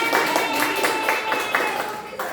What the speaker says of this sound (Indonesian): Ayo semuanya tepuk tangan.